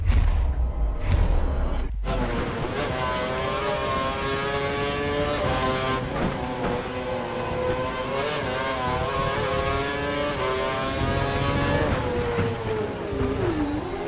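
A Formula 1 car in the F1 2012 racing game spins out, its engine note whining and sliding in pitch after an abrupt thump and cut, the loud high revving tone wavering steadily as the car recovers.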